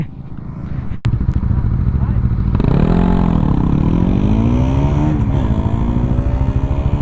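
Engine revving hard and shifting gears on a practice track, a loud close roar climbing in pitch with a sharp break at a shift, then rising again, with a voice speaking over it.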